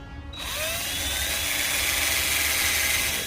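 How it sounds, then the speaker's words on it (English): A power drill whines steadily while pre-drilling screw holes into an aluminum cabinet frame inside a van, starting abruptly after a brief pause and holding a loud, continuous high-pitched spin with no talking. "Now I pre-drill my screw holes."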